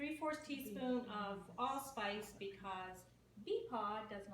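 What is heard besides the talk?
No everyday noise stands out behind the speech.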